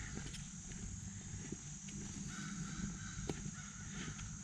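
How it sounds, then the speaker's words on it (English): Agitated crow cawing from the brush during outdoor land-clearing and hugelkultur work, with a few short harsh calls standing out over steady background rumble and rustling. "a crow's a little upset about something back here"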